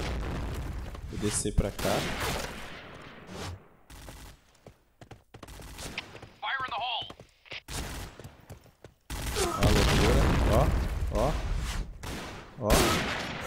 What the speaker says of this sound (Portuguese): Só o som da arma, mano.